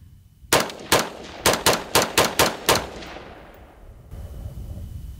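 A Freedom Ordnance FG-15 Gatling-style crank on an AR rifle fires a burst of about nine sharp, loud shots outdoors, two spaced then a quick uneven string, with ringing echo trailing off.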